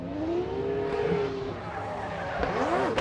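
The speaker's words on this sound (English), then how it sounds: "The rotary, lone rotary competition swings wide around that final front clip, Ryan" A Mazda rotary drift car slides wide through a corner during Formula Drift qualifying in Texas, its tires squealing loudly over a revving engine, with crowd and track ambience behind.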